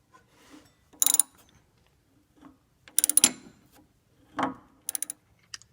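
A ratchet working off the 15 mm motor mount nuts on a Pontiac Fiero GT in a garage, heard as several short bursts of rapid clicking separated by pauses, close and fairly quiet.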